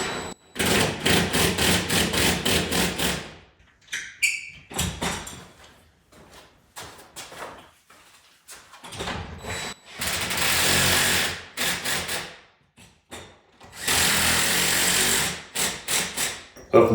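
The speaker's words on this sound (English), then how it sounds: "I'm going to go grab my impact driver." An impact driver drives screws into shop shelving in repeated loud, close bursts of rapid hammering rattle, broken by short pauses and softer handling sounds, with no talk.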